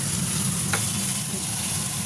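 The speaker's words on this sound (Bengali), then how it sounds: "চলো বেগুনটাকে ভেজে নিই দেখো বেগুনগুলো ভাজা হয়ে গেল" Eggplant slices frying in hot oil in a home kitchen, giving a steady close sizzle throughout with a brief brighter crackle partway through.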